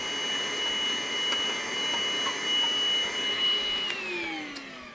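A small cordless vacuum cleaner runs steadily with a high whine and airy hum, close and constant, its pitch dropping slightly near the end.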